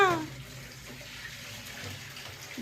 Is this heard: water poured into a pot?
yes